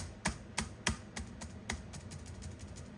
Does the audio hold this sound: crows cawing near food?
no